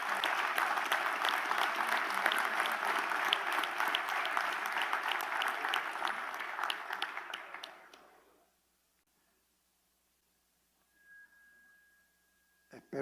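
Sustained applause from the floor of the National Assembly at a special July 5 session, dense and loud for about eight seconds before cutting off into near silence, with a brief faint noise near the end.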